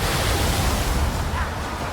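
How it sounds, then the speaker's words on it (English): Rising water in The Witcher 3: Wild Hunt, a broad, steady rushing roar like surging surf, loud and continuous with a heavy low rumble throughout. "I love the rising water"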